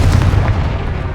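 Confringo fire blast spell in the Hogwarts Legacy video game, a dense booming burst that fills the whole moment, loud and close with a heavy low rumble and no talking over it.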